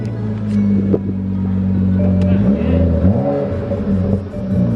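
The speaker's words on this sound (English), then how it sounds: "let's go ahead and bring up my car" A BMW F30 with an M Sport front bumper is driven up nearby, its engine humming steadily and rising briefly in pitch as it moves, with no voices.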